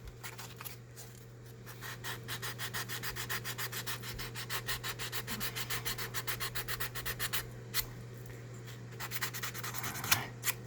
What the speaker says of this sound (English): So basically a smoother sandpaper, not your real heavy grit.